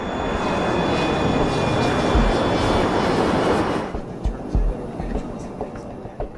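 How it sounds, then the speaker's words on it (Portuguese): An Avro 146 four-engine regional jet in flight gives a steady, loud broadband engine roar that drops off sharply after about four seconds, leaving a quieter hum with a few soft bumps. "A tripulação está pilotando um jato regional Avro 146"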